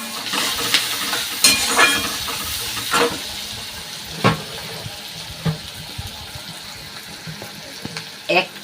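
Chopped onions dropped into butter and hot oil in a pan, a soft continuous sizzle broken by several sharp scraping clatters of stirring.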